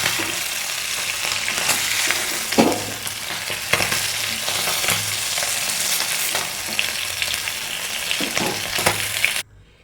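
Fish pieces for biryani fry in hot oil, giving a steady, close crackling sizzle with occasional louder spatters and stirring clinks, cutting off abruptly at the end.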